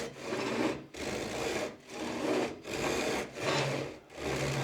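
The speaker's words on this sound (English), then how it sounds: "now from here on it's just about letting the saw do the work." A pull saw cuts through wood along a pencil line in long, steady rasping strokes, about five strokes with brief pauses between them, close and clear with no talking.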